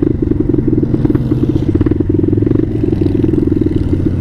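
A Bashan Motomax 250 motorcycle fitted with a Nibbi PE30mm carburettor runs loud and close, its engine chugging in a fast, even pulse with light mechanical clatter throughout, no voices over it.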